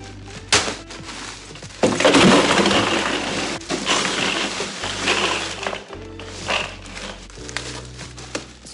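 Big bags of ice are dropped and dumped into a Mammoth Ranger 65 cooler, loud crunching thuds and rattling cubes in irregular bursts with short pauses between.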